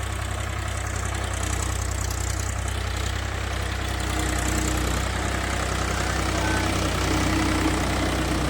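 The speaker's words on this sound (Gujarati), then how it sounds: "જો ચાલુ કરે છે ટ્રેક્ટર હાંકવાનું" A tractor engine runs continuously at a steady low idle, rumbling and chugging nearby with no breaks.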